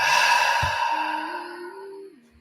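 A long, breathy exhalation released slowly during a breathwork exercise, loud at first and fading over about two seconds, with a faint steady tone beneath it and no talking.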